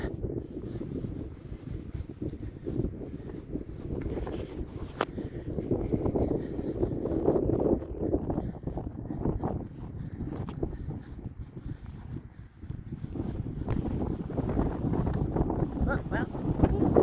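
Strong gusts buffet the microphone outdoors on a walk to Walmsley Bird Sanctuary in Cornwall, a continuous low, rumbling roar of wind noise that surges and eases for the whole stretch.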